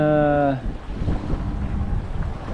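Wind roars steadily over choppy, grey South Atlantic water slapping nearby aboard a racing yacht, right after a brief voice at the very start.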